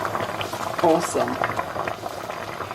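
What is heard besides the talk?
hot water from kettle poured into one-pot meal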